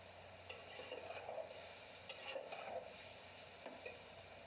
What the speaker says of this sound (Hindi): और मटर भी डालें। अब इनको अच्छी तरह भूनें।